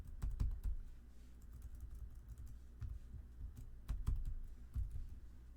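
Keys clatter on a computer keyboard as a password is typed, an irregular run of quick, soft taps close by in a quiet room.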